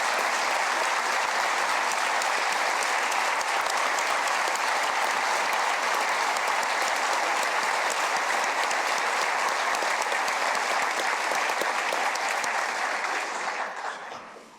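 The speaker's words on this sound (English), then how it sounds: "Will you all join me in giving Leda Wise Spirit a round of applause today?" A sustained round of applause from a large audience at a South Dakota state address, dense and steady clapping that holds evenly before tapering off at the very end.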